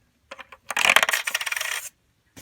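Pennies dropping into the coin slot of a LEGO Kit Kat vending machine, a few light clicks followed by a rapid metallic rattling cascade of coins that stops abruptly, with one faint click at the end.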